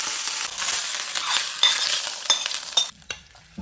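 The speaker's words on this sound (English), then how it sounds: "Now I'm going to add some curry leaves." Curry leaves hit a hot oiled pan with green chili and ginger, bursting into loud crackling sizzle with stirring scrapes that die away sharply near the end.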